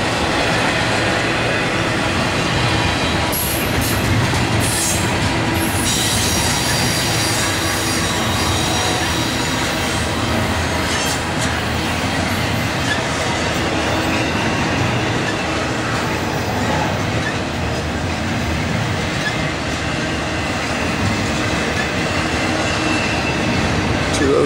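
A Norfolk Southern 203 intermodal freight train led by Dash 9, Dash 8 and SD70 locomotives rumbles past continuously with a steady roar of rolling cars, metallic wheel squeals and clatter throughout, loud and close.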